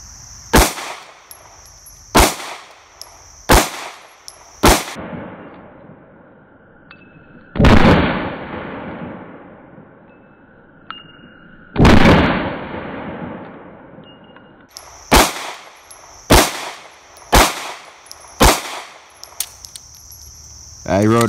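Sig Sauer M11A-1 pistol fired outdoors in a series of sharp, loud gunshots, some spaced singly and others in quick groups, each followed by a short decaying echo.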